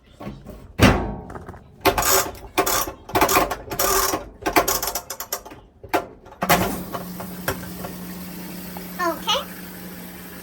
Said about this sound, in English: So, popping it into the washing machine.